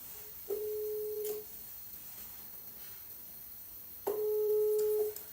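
A telephone call's ringback tone: two long, steady electronic beeps, clear and fairly loud, separated by a few seconds of quiet line hiss.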